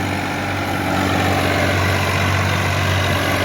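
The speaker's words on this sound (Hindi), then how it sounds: "भाइयों रोटावेटर के चक्कर 190 हैं, आप देख सकते हो कितनी दूर मिट्टी फेंक के मार रहा" A TAFE 30 DI tractor engine at about 1800 RPM drives a rotavator under load, giving a steady, loud, low diesel drone with constant rumble and no speech throughout.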